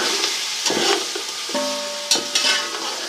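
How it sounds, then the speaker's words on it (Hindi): Beef pieces with bone and fat, mixed into a spice paste for degi pulao biryani, sizzle in a pot while being stirred and scraped, with clinking utensil hits over the steady frying hiss. "हम इसमें शामिल करते हैं और इसकी अच्छे तरीके से भुनाई कर लेते हैं"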